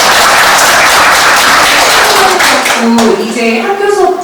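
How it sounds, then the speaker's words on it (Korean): Loud clapping at a Korean National Assembly policy forum on school speech-language therapists, dense at first and thinning out, with a voice beginning to speak as the applause fades. "박수 받아야 될 일입니다"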